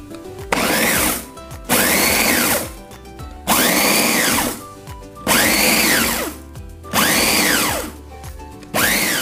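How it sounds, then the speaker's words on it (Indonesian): A blender grinds chillies coarsely in five short bursts, each a loud whirring roar that rises and falls in pitch, separated by brief pauses. "Setelah bawang, kita giling dulu cabenya, jangan sampai lembut"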